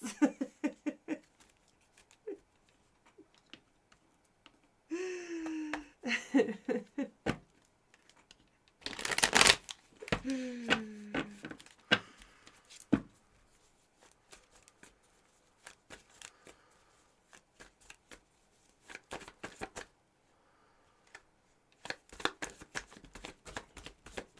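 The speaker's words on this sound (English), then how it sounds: "Left me like a perfect place to shuffle the cards." A deck of tarot cards is shuffled in bursts of crisp riffling and light tapping. Two brief voiced sounds break in midway, and otherwise the room is quiet.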